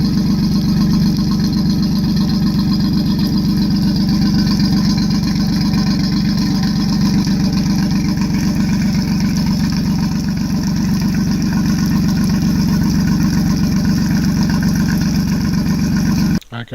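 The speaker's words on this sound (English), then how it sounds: "Thought you may want to hear the engine running." Outboard-style engine of a 485 Navigator boat runs steadily at idle, a constant loud low hum with a faint whine on top, close by and unbroken for the whole stretch, with a brief knock at the very end; no talking.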